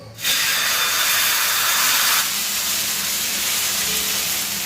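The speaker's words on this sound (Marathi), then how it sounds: "थोडस पाणी मारून बघायचा चांगला तवा तापलेला आहे" Water splashed onto a hot iron griddle (tava) for a sago-flour dosa bursts into a loud, close steam hiss that holds strong for about two seconds, then settles into a softer, steady sizzle.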